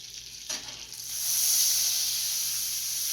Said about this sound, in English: I'm going to work my butter around in the pan.